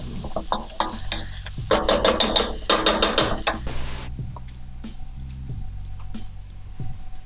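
Shrimp fried rice is stir-fried in a pan on high heat with little oil, a spatula scraping and clattering in quick bursts over a low sizzle, busiest in the first few seconds before easing into softer, scattered stirring.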